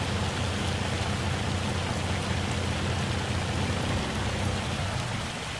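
Steady rain falls in Farming Simulator 25, a dense, even hiss of drops on surfaces that holds at constant loudness throughout, with no voices.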